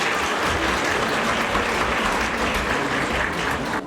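Wedding guests applaud the bride and groom with a loud, continuous wash of crowd clapping that holds steady throughout and drops slightly at the very end.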